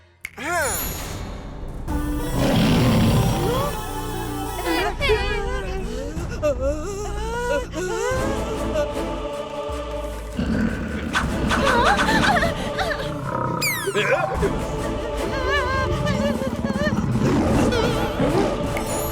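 A cartoon lion in a costume gives dubbed roars and growls, with loud, dramatic swells. Character voices and music are mixed through the scene.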